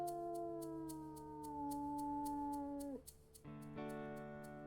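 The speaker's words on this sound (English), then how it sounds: "I'm just gonna howl a little bit." A wolf howls in the video game WolfQuest, a long sustained tonal howl that slides slightly downward, breaks off, then resumes at a higher pitch, with faint regular ticking behind it and no speech.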